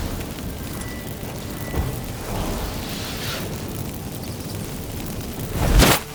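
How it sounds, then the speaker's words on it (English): Magic fireworks burst from activated incense in The Witcher 3, a low rumbling eruption with a soft pop early on and a sharp louder burst near the end, heard without talk. "Get ready for some magic fireworks."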